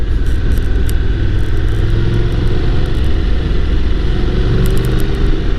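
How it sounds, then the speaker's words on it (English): A car rushes past close to a Honda NC750X DCT motorcycle on the road, with a loud continuous engine and road rumble from the riding bike and wind noise over the whole stretch. "Not gonna lie, that car kind of scared me"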